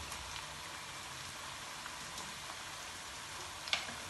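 Half a kilo of chicken frying with chopped garlic and ginger in a karahi, a faint, steady sizzle and crackle with a few brief pops, heard alone at low level.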